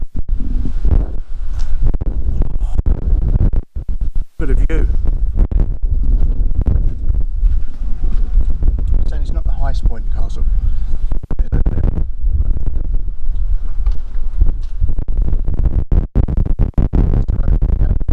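Strong gusty wind roars around the hilltop ruins of Corfe Castle, buffeting the microphone in a loud, continuous low rumble with brief dips.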